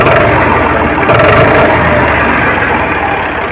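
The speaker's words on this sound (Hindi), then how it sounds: "कितना अच्छा साउंड आ रहा है इंजन का," A Powertrac 439 DS tractor diesel engine runs loud and close at a steady idle, with a continuous low throbbing rumble and no talk over it.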